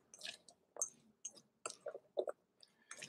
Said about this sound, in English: We're going to mix this all up.